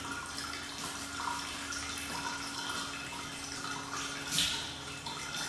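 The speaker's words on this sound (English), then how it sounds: "It empties out the gray water tank, and then it flows back into the fresh water tank." Water from an overflow in a tiny home's off-grid system runs back from the gray water tank into the fresh water tank. It makes a faint, steady trickling flow with a brief louder splash near the end.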